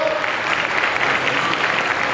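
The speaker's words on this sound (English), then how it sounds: "Give her a round of applause as he leaves the stage." A crowd at a Supanova Gold Coast cosplay contest applauds as a cosplayer leaves the stage, steady dense clapping from a large audience with faint cheering underneath.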